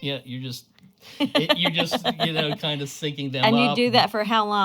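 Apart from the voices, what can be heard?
None of the usual background noises is heard.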